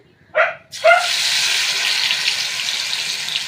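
Bottle gourd fritter batter dropped into hot mustard oil, two quick plops followed by a loud, steady, close sizzling hiss that continues to the end without talk.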